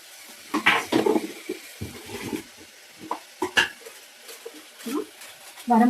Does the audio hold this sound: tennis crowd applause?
no